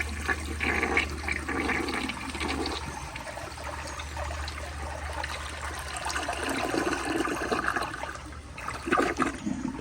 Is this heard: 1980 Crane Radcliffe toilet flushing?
yes